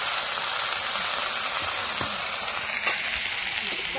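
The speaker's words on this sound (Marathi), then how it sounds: "आता लसूण आणि जिरे एकदम भारी लाल झालेले आहे आणि भाजी त्याच्यामध्ये परतून घ्यायची आपल्याला" Methi (fenugreek) leaves frying in oil with garlic and cumin over a wood-fired chulha, a steady close sizzle with occasional faint clinks and stirring scrapes.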